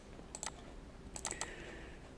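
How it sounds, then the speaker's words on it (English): Keys on a computer keyboard click faintly in two short clusters of quick taps, close and quiet, with a low steady background hum between them. "hit enter on the keyboard"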